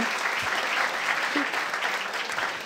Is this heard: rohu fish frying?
no